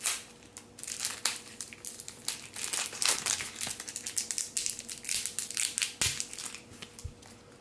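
Plastic wrapper of a peach-flavoured vegan chewing gum crinkling and crackling as it is torn open, close and continuous, with irregular sharp crackles over about seven seconds and no talking.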